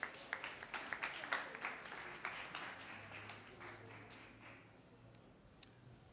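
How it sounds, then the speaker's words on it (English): Scattered audience applause at a public health campaign event, starting with sharp individual claps and fading over several seconds into a low murmur, fairly faint and distant in a roomy space. "I think you deserve a round of applause"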